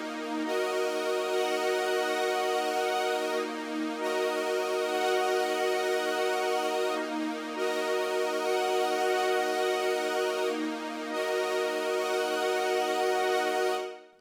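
A Roland Juno 106 synth plays a sustained, string-like chord progression in a Moving Strings pattern, dropping from a full chord to two notes before adding another, with brief dips between chords and a steady, loud tone throughout.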